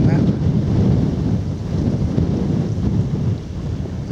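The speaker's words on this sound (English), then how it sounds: "As you can hear, the wind's picking up again now." Strong wind gusts roar steadily against the microphone on an open countryside walk near Steeple Morden, a dense low rumble with no let-up.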